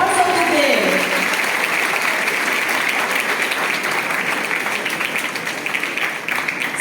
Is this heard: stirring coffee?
no